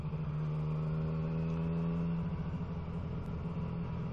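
A vehicle cruises at steady speed with cruise control engaged, a constant low engine hum and road rumble with a sustained droning tone that fades slightly after a couple of seconds.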